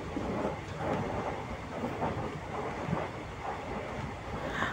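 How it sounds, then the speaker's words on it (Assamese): A passenger train runs through hilly forest in Assam, with a steady rumbling roar of wheels and carriage noise mixed with rushing wind, continuous and close. "এই ভিডিঅ'খিনি মই ট্ৰেইনত বহি কৰি আছো"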